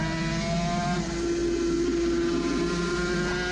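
Onboard engine of a Suzuki RG500 classic racing motorcycle at the Isle of Man, a loud, sustained two-stroke drone holding a steady pitch with slight shifts, no talk.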